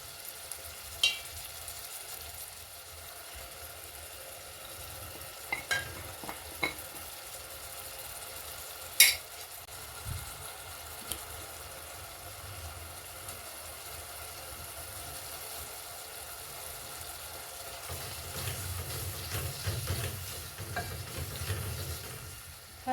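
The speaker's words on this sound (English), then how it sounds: "Cover and let it cook till our tomatoes are ready." Tomatoes frying in a pan while making matoke, a steady quiet sizzle with occasional clicks and utensil taps throughout.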